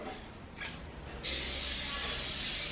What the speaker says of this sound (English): pan with a non-sticking spray.